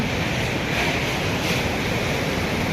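Water rushes with a dense, steady roar, loud and unbroken, with some wind buffeting the microphone and no voices, at a dam on the Birupa River in Chaudwar, Cuttack.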